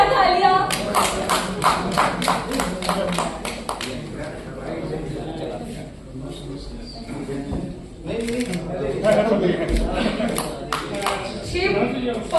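Audience clapping at a Gandhian-philosophy event in India, a brisk burst of many hands at the start that thins and returns in patches, mixed with crowd murmur and talk.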